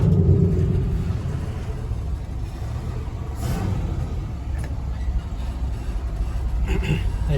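A 1975 Ford F250 with a 390 V8 idles and revs nearby, a deep steady rumble with a louder surge at the start and brief sharper bursts later.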